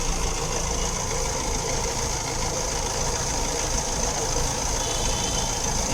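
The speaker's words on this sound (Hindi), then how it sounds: "अभी इंजन स्टार्ट है" Steady, even idle of a Honda Amaze car engine drones throughout, a constant mechanical hum with light vibration through the engine mounting and no speech.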